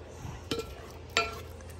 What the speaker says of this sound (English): I'm just cooking down the cauliflower.